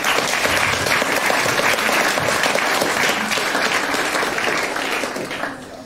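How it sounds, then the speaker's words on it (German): Audience applause fills the room at a youth hackathon's final presentations, a steady, dense clapping that holds strong for several seconds before slowly tapering off, with no talking over it. "einen großen Applaus für die Spiele von Kunst und Kultur Spielesammlung"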